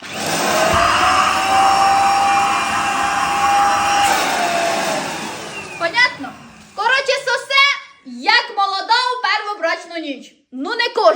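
A handheld vacuum cleaner sucks with a loud, steady whine for about five seconds, then winds down and stops, followed by someone talking.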